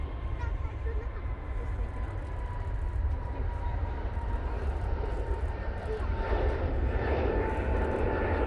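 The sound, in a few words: aircraft departing for Heathrow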